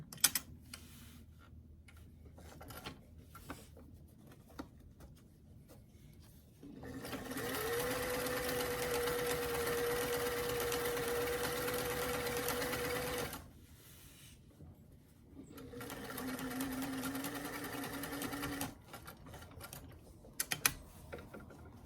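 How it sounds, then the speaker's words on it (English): Two long runs of steady sewing machine stitching back-stitch over a hem, each several seconds and separated by a quiet gap, with light tapping and handling clicks before and after. "I'm going to start with a few back stitches over that hem to secure that edge, and then draw it forward."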